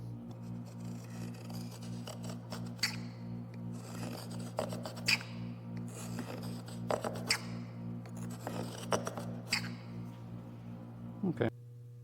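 A marking knife scores a line across wood for a herb-garden planter, repeated scratchy rasping strokes at close range over a steady low hum, with a louder stroke near the end.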